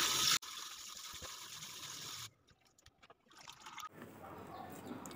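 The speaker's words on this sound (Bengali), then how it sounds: "ছানাটাকে জল দিয়ে আমি ভালো করে ধুয়ে নিচ্ছি যাতে লেবুর রসটা একদম না থাকে।" Water pours and splashes over soft chhana curds made with lemon juice as they are rinsed, a steady close running and trickling sound that stops briefly, then resumes more faintly.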